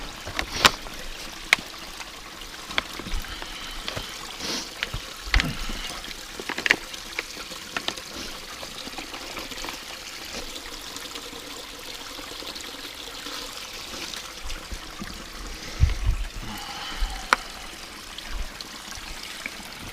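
Mountain stream on the White Mountains' Baldface Circle Trail, trickling softly and steadily while water is collected, with occasional sharp clicks and knocks close by.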